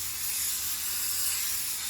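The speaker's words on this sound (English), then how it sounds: "And now you can see that the steam is coming out." A garment steamer hisses a steady, close, broadband jet of steam onto a satin print, continuous and unbroken with no voices.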